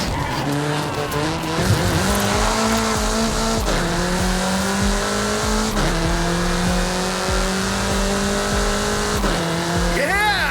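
A car races through the countryside in Forza Horizon 5: a loud engine revs and climbs through repeated gear shifts, with tires squealing through corners and no talking.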